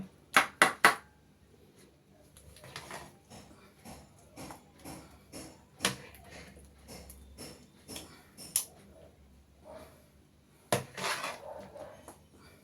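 A ladle scrapes and knocks against a kadai while hot beetroot halwa is scooped into a bowl, giving a few sharp clanks at the start, then scattered softer taps and scrapes, close and fairly quiet.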